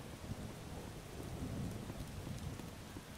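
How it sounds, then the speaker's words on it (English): Heavy rain pouring outside, a dense steady hiss with low rumbling undertones, muffled and fairly faint as if heard from indoors. "It is really raining out there."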